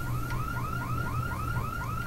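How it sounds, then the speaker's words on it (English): A car alarm blares in the video game Dead Island, its rapid repeating whoop cycling evenly over a low background rumble, steady and moderately distant, with no talking over it. "Okay, there's a car alarm going off here."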